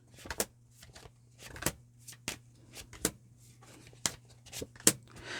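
Playing cards are shuffled and riffled close up, a series of crisp flicking bursts at an uneven rhythm over a low steady hum, with no talking.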